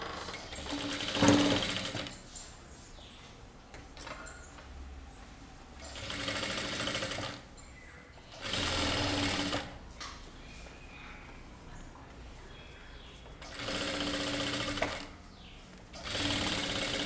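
A sewing machine stitches kurta pieces in four short bursts of rapid whirring, with quiet handling of the fabric between the runs and no talk.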